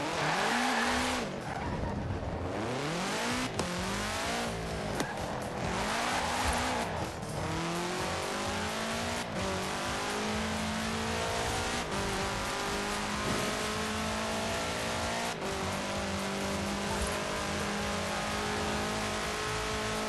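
A 1966 Volkswagen Beetle fitted with a 2.5-liter flat-four turbo engine, driven in Forza Horizon 4, revs loudly and without a break, its engine pitch rising and falling through repeated gear shifts, with tyre squeal throughout.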